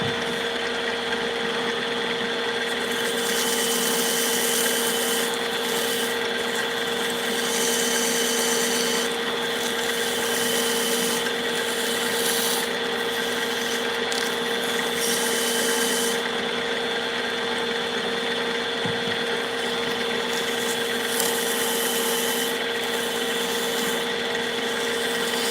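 A rotary machine hums steadily while working a ring on a mandrel, a continuous whirring drone with strong tonal bands that holds even for the whole stretch, loud and close, with no talk.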